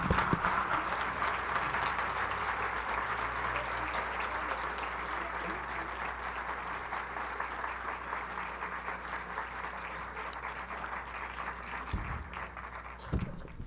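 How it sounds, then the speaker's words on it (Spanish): A congregation at a parish gathering applauds in a steady, dense wash of clapping that holds for many seconds, moderately loud and filling the room, with faint voices mixed in. "le voy a pedir que le dé un aplauso a Dios"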